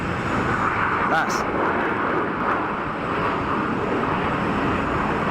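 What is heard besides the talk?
Airbus A220 landing with full thrust reversers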